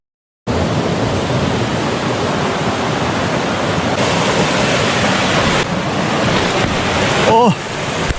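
Broad, steady rushing of river water in the Harz Mountains near Thale, loud and close throughout, with a short rise in intensity and a brief squeak near the end.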